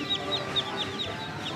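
Rapid high-pitched peeping from several ducklings, a quick repeating chorus of chirps, close and fairly soft.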